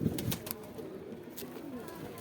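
Pigeon cooing from a high-flying, dark-winged bird with white front feathers at a Saharanpur loft, a few short soft coos near the start over a low murmur of background noise.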